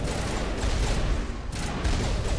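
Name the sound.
turret gunfire in Mass Effect video game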